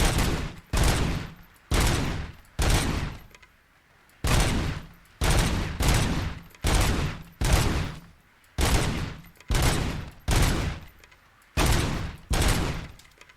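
Video game gunfire in Robocop: Rogue City, a steady series of a dozen or so loud, sharp shots spaced about a second apart, each trailing off in a short decay, with no talking.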